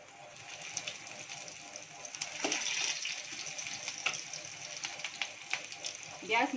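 Stuffed bitter gourds are lowered into hot oil in a pan and fry with a soft, crackling sizzle. The sizzle swells and pops irregularly, with a few utensil knocks, and stays fairly quiet overall.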